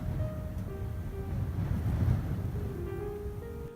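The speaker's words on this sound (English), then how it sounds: "You can hear the sound of the wind." Wind blowing during a New England snowstorm, heard from inside an attic: a steady low roaring rush that swells slightly in the middle, alone with no voices.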